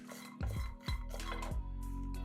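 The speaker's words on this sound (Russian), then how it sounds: "50 грамм грецких орехов обжариваем на сковороде до легкого золотистого цвета. Жарим на среднем огне, постоянно перемешивая." Walnuts toasting in a frying pan over medium heat while being stirred: repeated scraping and clinking of the utensil against the pan, a few distinct knocks over a steady sizzling background.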